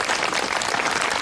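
Wedding guests applaud an officiant after his ceremony speech, a dense, steady wash of clapping from a crowd filling the whole short moment with no voices.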